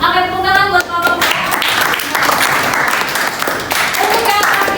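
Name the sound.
classroom applause for group 2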